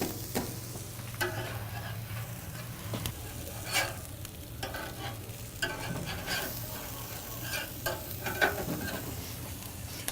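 Burgers cooking on a grill at a burger house, a steady low sizzle broken by sharp clinks and scrapes at irregular intervals, close by, with no talking.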